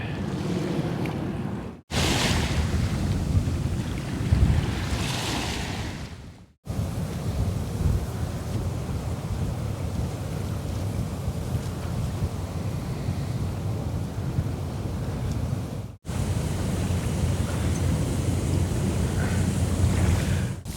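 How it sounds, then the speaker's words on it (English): Low rumbling motors of boats passing along a channel of the Arthur Kill, with washing water, heard in several separate stretches broken by short cuts. "There's boats coming"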